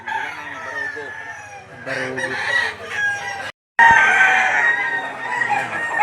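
A rooster crows at a market stall in Lipa City, Batangas, the sound coming through a steady background hum, loud and close, while people talk nearby.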